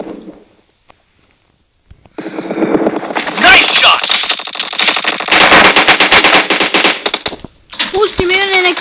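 Rapid automatic gunfire from the PUBG battle royale video game, loud bursts of shots running almost continuously after a quiet start, with someone talking over the game action.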